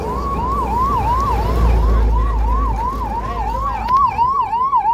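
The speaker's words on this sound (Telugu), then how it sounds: "రెండు అంబులెన్స్లు వచ్చేసినాయి." Ambulance sirens wailing on a road at night, a loud rising-and-falling electronic siren cycling steadily over rumbling traffic, with a second siren joining near the end.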